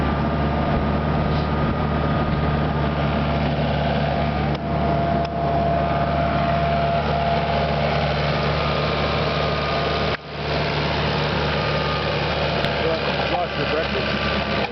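Steady mechanical drone of a rotary tiller with five sets of spinning teeth churning soil in a vineyard, a loud continuous engine hum and rattle throughout with little variation, a voice speaking over it.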